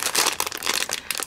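Felt craft material being unwrapped from its packaging, a steady run of close crinkling and rustling of plastic wrap for just over a second, with no voices.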